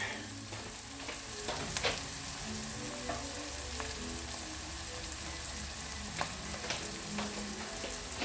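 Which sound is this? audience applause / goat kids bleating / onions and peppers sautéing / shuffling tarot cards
onions and peppers sautéing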